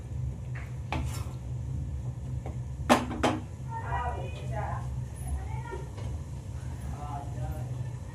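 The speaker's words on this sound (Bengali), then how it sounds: "এবার চিকেনটা দিয়ে আমি ভালো করে গ্রেভির সাথে মিশিয়ে নেব" Chicken being stirred into gravy in a cooking pan, a few sharp metal clanks of a spoon against the pan over a low steady background hum, with a voice speaking in between.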